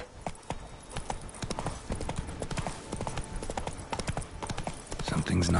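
Roach, a horse in the video game The Witcher 3, clip-clops along with a steady run of sharp hoof strikes at a walking-to-trotting rhythm, fairly close and faint, with speech near the end.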